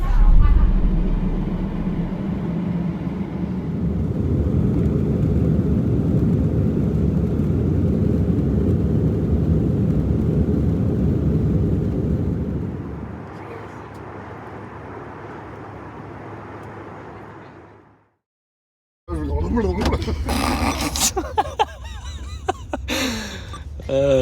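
Airliner cabin noise on a flight to Florida before landing, a loud steady engine rumble that eases to a softer hum, cuts out, then gives way to clattering and voices talking.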